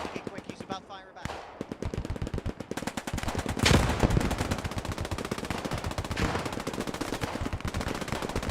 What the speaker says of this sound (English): A little bit of friendly fire with machine guns going on there.